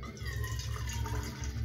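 Purified water pours steadily into a container, a brief close splashing stream with some low background hum.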